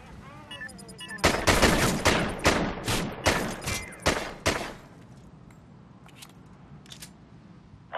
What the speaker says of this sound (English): The pistol's good!